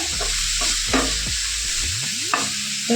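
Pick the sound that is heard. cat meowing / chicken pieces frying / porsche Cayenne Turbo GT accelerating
chicken pieces frying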